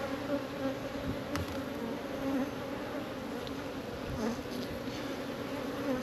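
Honey bees swarm around a backyard hive in a dense, steady drone, close and continuous, with a few louder passes as single bees fly near, and no voices.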